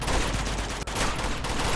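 Gunfire in the video game Uncharted 2: a loud, dense, continuous burst of shots that fills the whole moment, with a tiny break near the middle and no talking.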